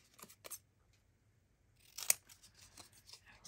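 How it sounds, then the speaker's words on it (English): Scissors snip at a paper Halloween pocket decoration in a quiet room, a few soft, crisp cuts, then a short cluster of closer snips with one sharp click. "Just going to wing it with my scissors."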